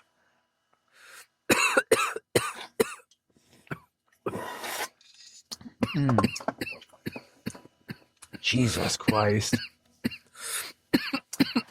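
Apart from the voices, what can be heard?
harsh coughing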